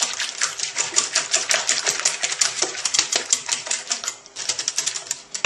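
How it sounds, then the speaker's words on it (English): Eggs being beaten into Yorkshire pudding batter in a bowl, a fast, steady run of crisp clicking taps that keeps up with hardly a break, close and fairly loud, with no talking. "then we beat the eggs into the mix"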